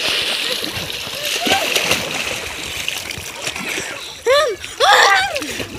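Water splashes and sloshes as someone bathes in a village river, with broad close splashing throughout and a couple of louder bursts near the end alongside vocal sounds.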